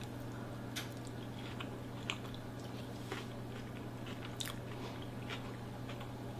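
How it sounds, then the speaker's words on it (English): A bite of rotisserie chicken salad being chewed up close, soft wet squishing and crunching in irregular bursts, quiet and with no talk. "I'm going to give it a taste right quick to make sure it's got enough of everything in it"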